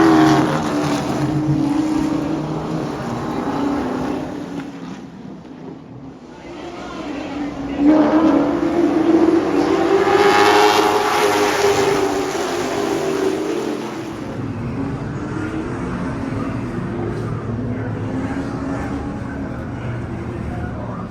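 Race cars circle a speedway track at a touring-car event, engines swelling into a loud roaring pass with rising and falling pitch, then fading into a distant drone, with some background noise.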